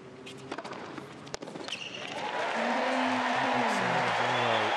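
A tennis crowd at the 2016 Sydney International WTA final breaks into loud, sustained applause and cheering that swells after a few scattered sharp knocks and settles into a steady roar.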